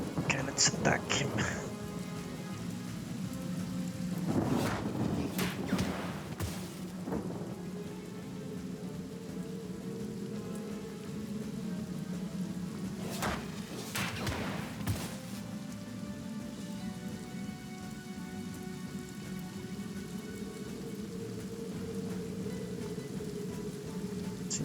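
Steady rain conjured by a spell in the video game Divinity: Original Sin patters continuously throughout, with a few louder crackling bursts, while someone talks over it at intervals.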